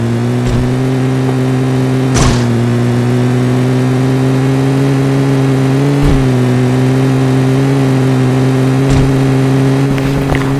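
A car drives in PUBG Mobile Lite, its engine holding a steady, loud mid-pitched drone with slight rises as it revs, plus a few short clicks and knocks along the way.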